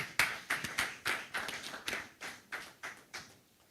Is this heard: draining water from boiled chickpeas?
no